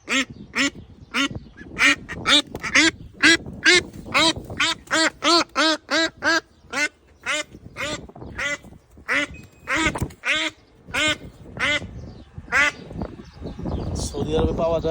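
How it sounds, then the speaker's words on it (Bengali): White Bangladeshi ducks kept outside a home in Saudi Arabia quack loudly and close by in a rapid run of repeated bursts, giving way to a busier, noisier stretch of calls near the end. "বাংলাদেশের হাঁস সৌদি আরবে দেখেন।"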